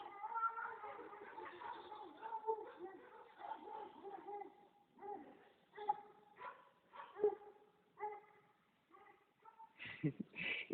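A dog yips and barks in short, uneven bursts, faint and somewhat distant during a vinyasa yoga class, with whimpery yelps toward the end and a voice talking softly in the background.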